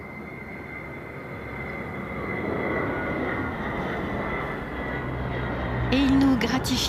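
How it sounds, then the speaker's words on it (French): Breguet Atlantique 2 maritime patrol aircraft making a flyby at an air show with its bomb bay open, a broad engine roar swelling and fading under ongoing commentary. "Et il nous gratifie d'un passage soute ouverte, cet avion."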